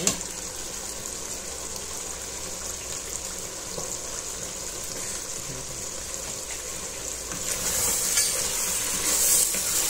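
Peppers frying in a pan for sautéed cabbage, a continuous close sizzle with stirring and scraping that swells louder toward the end.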